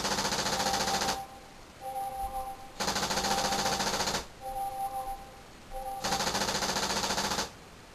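Laser-activated X7 paintball machine gun firing in sustained automatic bursts, three loud runs of rapid shots each lasting over a second, separated by short pauses with a faint tone between.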